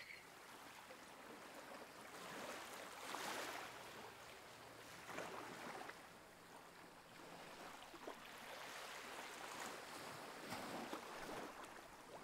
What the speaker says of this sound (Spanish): El tranquilo